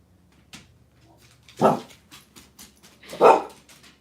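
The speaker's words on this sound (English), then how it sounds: "And there goes my dog." A pet dog named Saphira barks indoors, two sharp barks close by with softer whimpers and yips between them, no talking over it.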